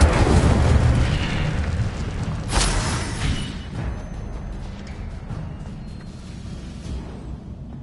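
An Incendio fire spell cast in Hogwarts Legacy erupts with a loud fiery blast around the middle, then fades into a low rumbling crackle that tapers off slowly.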